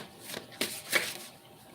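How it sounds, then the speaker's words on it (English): Three quick, crisp flutters of tarot cards being shuffled by hand, close and fairly soft, with short pauses between them and no talking. "Two more shuffles."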